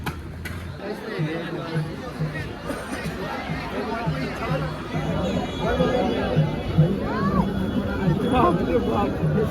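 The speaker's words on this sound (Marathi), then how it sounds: "किती गर्दी आहे." Steady crowd chatter and murmuring voices from many people packed in a long queue at the Kaal Bhairav temple, a continuous dense babble that fills the whole stretch and swells slightly toward the end.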